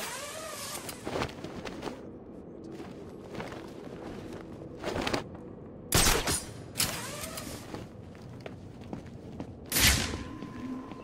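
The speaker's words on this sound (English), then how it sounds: "Gunshot came from the bell tower." Sharp bursts of gunfire in Batman: Arkham City crack out in several separate volleys a couple of seconds apart, coming from a bell tower, with footsteps and game ambience between them.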